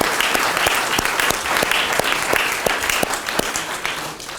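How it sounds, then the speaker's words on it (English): An audience claps at the MP of the Year awards ceremony, dense and sustained applause with sharp individual claps, loud and steady throughout the whole stretch. "let's give Kat's mum a round of applause"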